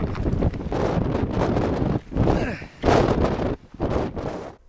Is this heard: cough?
no